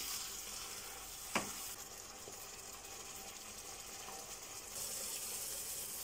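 Tomato and tomato paste in a pan produce a faint, even sizzle, with a single sharp scrape of a utensil early on and a slight rise in the hiss near the end.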